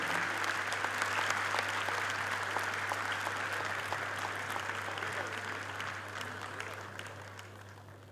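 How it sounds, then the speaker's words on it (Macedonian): Sustained audience applause at a sports awards gala in the Macedonian Opera and Ballet hall, greeting the women's national handball team onstage; dense steady clapping from a large crowd, gradually thinning slightly over time, with a low constant hum beneath. "Можеме со еден аплауз да ги пречекаме овдека на сцената во Македонската опера и балет."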